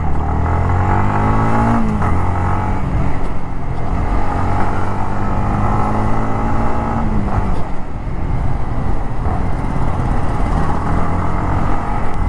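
A Yamaha MT-15 motorcycle engine pulls hard under acceleration on a road test, a loud continuous drone that climbs in pitch through the gears and holds throughout.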